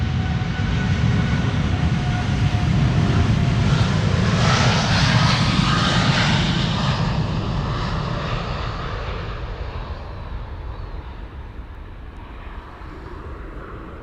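Boeing 787 Dreamliner jet engines spooling up for departure at Amsterdam Schiphol Airport, a loud, broad roar that swells and peaks midway, then slowly fades as the aircraft moves away.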